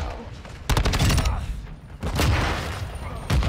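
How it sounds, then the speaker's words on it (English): Loud bursts of rapid gunfire and explosive blasts ring out in repeated waves during a Call of Duty: Modern Warfare II match, where a flashbang grenade goes off amid the chaotic combat, harsh and close. "Flashbang."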